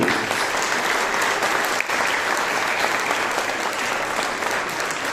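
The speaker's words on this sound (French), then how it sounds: "s'il vous plaît, tous vos applaudissements" Loud, continuous applause from a festival closing-ceremony audience greeting an Irish filmmaker, a thick, unbroken roar of many hands clapping throughout with only a momentary dip.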